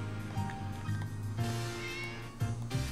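Cats meow repeatedly in the Tales of Xillia 2 video game, tonal cries at a steady pace over a constant game music backdrop, fairly loud and with no talking.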